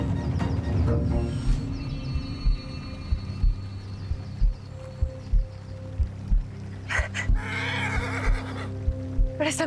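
A suffering mare whinnies loudly near the start and again later, with rhythmic thudding beats and low rumbling throughout.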